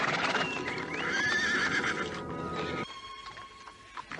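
A horse whinnies prominently over steady clip-clopping hooves while it is ridden, the sound dense and close before dropping to a quieter, sparser stretch of hoof steps near the end.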